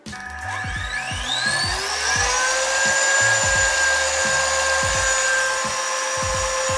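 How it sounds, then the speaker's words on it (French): An electric whisk beats eggs, sugar, milk and vanilla sugar for brioche perdue, its motor whirring up to speed and holding a steady, close, high-pitched drone with faint rhythmic ticking of the beaters against the bowl. "Et maintenant, on peut fouetter le tout."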